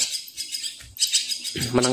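A young jalak kebo (myna) chicks in short, bright chirps and squeaky calls, scattered across a brief moment at close range with some low bumping noise underneath.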